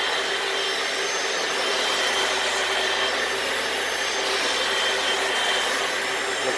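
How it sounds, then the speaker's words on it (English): A Hoover FloorMate vacuums up excess water from a garage floor, producing a loud, steady motor whine with a rushing airflow hiss that continues unbroken throughout, with no talking. "just gonna go back over the floor and vacuum up any excess water"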